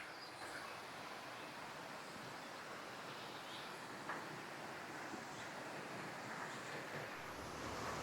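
The lower falls of Eas Mor on the Isle of Arran give a constant, faint, broadband rush of falling water, steady throughout with light wind noise and no voices.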